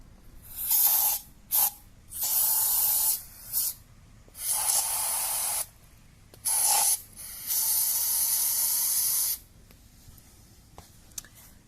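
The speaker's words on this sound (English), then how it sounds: "So let's go ahead and spray some brake cleaner in there." Several long hissing sprays of brake cleaner from an aerosol can into a Ford Ranger 2.3L engine, broken by short pauses, close and steady, with no talking.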